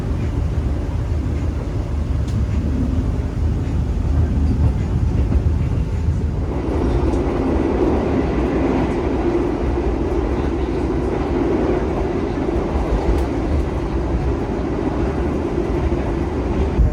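Steady rumble of the Bogowonto economy passenger train running on rails, heard from inside the carriage as a continuous loud low roar that grows fuller partway through, with no voices.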